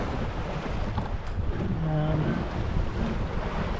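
Ocean waves wash against a sailboat in steady wind, a continuous rushing surge with wind buffeting the microphone, with no voices.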